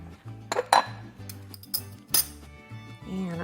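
A ladle clinks against a bowl while chilled gazpacho is served, a few sharp metallic and ceramic taps scattered over a low hum, with a person talking briefly near the end.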